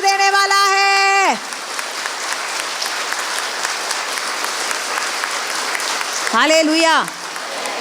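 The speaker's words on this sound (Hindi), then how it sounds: "धमाकेदार ताली बजाए" A church congregation bursts into loud, sustained applause that fills the room for several seconds, framed by a preacher's amplified sung shouts at the start and end.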